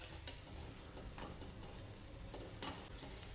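Vada fritters deep-frying in hot oil until golden brown, giving a faint, steady sizzle with a few soft pops and crackles spread through it and no speech.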